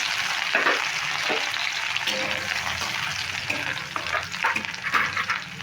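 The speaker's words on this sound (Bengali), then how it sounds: "তেলটা গরম হয়ে গেছে আমি একটু গোটা জিরে নিয়ে নিলাম গোটা জিরে ফোড়ন দিয়ে দিচ্ছি" Whole cumin seeds and chopped green chilli crackle and sizzle in hot oil, a dense, steady frying hiss with bursts of spattering and stirring scrapes, close up and with no voices.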